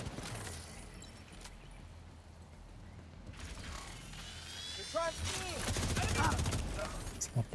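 Gunfire in a first-person shooter game: a few sharp shots crack out in the later seconds over a low, busy game backdrop, with mechanical clicks.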